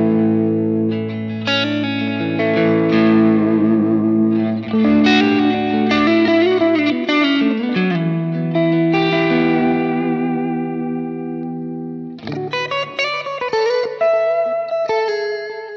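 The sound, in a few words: guitar through Line6 POD Express Chime preset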